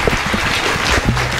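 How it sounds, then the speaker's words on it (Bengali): Applause from the audience at a neighbourhood Durga Puja club prize event, a short burst of steady clapping heard close and fairly loud with no talk over it. "একটা জোরে হাততালি হোক আরও একবার"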